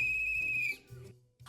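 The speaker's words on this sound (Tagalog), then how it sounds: "Kaya nagdala nga ako ng mga pito eh." A lifeguard's whistle gives one long, loud, steady shrill blast that tails off, then a brief softer chirp near the end.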